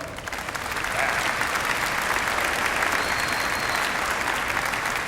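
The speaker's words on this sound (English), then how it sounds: "Let's give him a nice round of applause also." Convocation audience at a University of Waterloo science graduation ceremony applauding, a dense, loud, sustained roar of many hands clapping that swells after the first second and holds steady with no voices over it.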